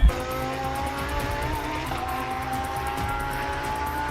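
Race cars roar past on a narrow road in a steady, loud engine drone with tire noise, sustained for several seconds without speech.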